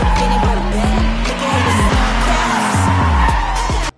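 A new Porsche skids hard during a street show-off, tires squealing in long wavering screeches over a loud revving engine with repeated gear-change bursts, then cutting off abruptly.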